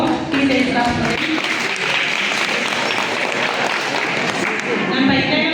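Audience at a Makueni County department performance ceremony applauds steadily and loudly for the county attorney's office, dense clapping sustained across the whole stretch with a voice heard underneath.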